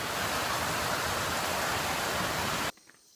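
Outdoor rain makes a loud, even, broadband hiss up close for nearly three seconds, then cuts off abruptly into quiet.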